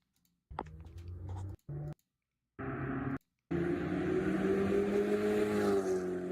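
A turbocharged car engine revs in a video game, in loud bursts broken by short gaps of silence, then a long steady drone with a faint rising whine.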